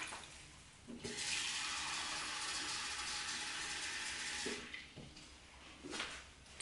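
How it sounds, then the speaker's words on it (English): Water pours steadily from a kitchen tap for several seconds while cups are filled for canning coleslaw, with soft clunks as the flow starts and stops. "I'm gonna add 2 cups of water right from the tap"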